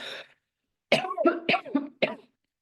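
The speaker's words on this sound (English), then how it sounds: "I'm going to cough 3 times right now to help release some of the stagnant energy" One person coughs, a brief cough followed after a pause by a cluster of several quick, close, dry coughs with raspy throat sounds, in an otherwise silent room.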